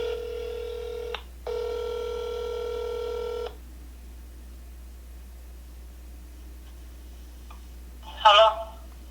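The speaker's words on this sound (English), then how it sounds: "let me go back and see who else I need to call." Telephone keypad tones sound during a live call-in show as the host dials the next caller: two long steady dial tones, a brief gap, then quiet line hiss and a short burst near the end.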